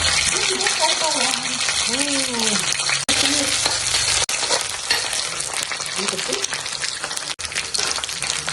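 Steady loud sizzling of vegetable shoots frying in a hot pan with belacan sambal and onions, with stirring scrapes and faint voices in the background.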